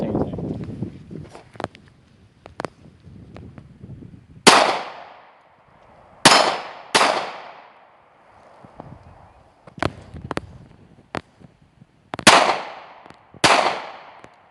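A 9mm handgun fires at a metal target outdoors: about five loud, sharp cracks, each ringing briefly as it decays, spaced irregularly among softer clicks and handling noise.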